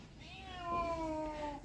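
A frightened cat lets out a single drawn-out, wavering meow, fairly faint and close, alone without talk.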